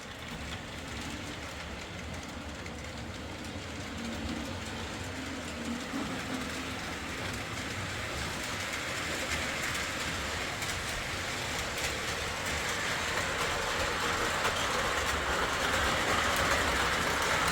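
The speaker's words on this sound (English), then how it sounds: "let's see if we can make this whole train run" A Williams 3-rail O-scale Alco PA-1 model train rumbles steadily along its track with a continuous clattering roll, growing slightly louder toward the end, with no voices.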